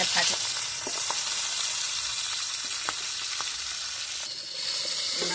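Bele fish frying in hot oil in a home kitchen, giving a continuous bright sizzle with scattered sharp pops and crackles throughout, fairly close and steady, with a brief shift in the hiss near the end.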